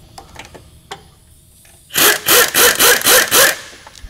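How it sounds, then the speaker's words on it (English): Six short, loud bursts from a power tool in quick succession as M8 triple square flange bolts come off a VW Mk4 suspension during coilover removal, preceded by quiet clicks of handling. "now we're going to remove the six M8 triple square flange bolts"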